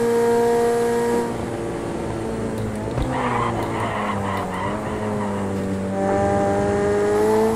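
A Pagani race car engine in Project Cars 2 holds a steady high-pitched drone, with tire squeal and skidding through the middle as the pitch dips and then climbs again.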